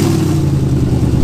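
A straight-piped V8 in a B7 Audi S4 25th Anniversary Edition idles loud and close right after starting, a rough, throbbing low rumble with a clattery edge, heard alone.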